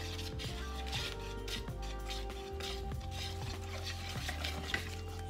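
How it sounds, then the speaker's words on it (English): A whisk clatters rhythmically against a bowl, stirring water into batter for carnival fried Oreos, with steady repeated scraping strokes roughly every half second, close and clear with no talking. "I'm gonna take this whisk and I'm gonna stir it up"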